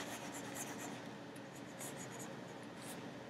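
An eraser rubs across a classroom board to clear a drawn graph, giving a faint, continuous scrubbing sound with small bursts of friction.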